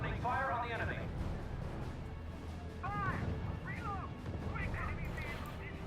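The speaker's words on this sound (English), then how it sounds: "Unit opening fire on the enemy." Units opening fire in the strategy video game R.U.S.E., scattered booming artillery and gun reports rumbling under continuous game sound and chirpy effects, with a voice talking over parts of it.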